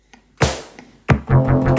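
Korg Volca FM synth bass line played in a gated sixteenth-note pattern: a short opening hit, then, after a pause, loud chopped pulsing notes repeating steadily and close up.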